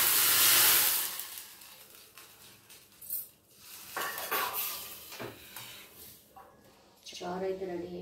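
Spices tempered in hot oil in a pan at a home kitchen stove, just switched off: a loud hiss bursts up at first, then fades into scattered clinks and scrapes of a pan and utensils, with brief voices in the background.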